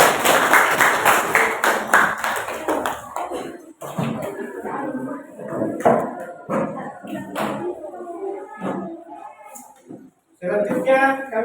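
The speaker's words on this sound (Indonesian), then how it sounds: "Yang beri aplaus untuk kelompok 2." An audience at a group presentation claps for about four seconds, a dense burst of applause that fades as voices and shuffling take over, with more clapping briefly at the end.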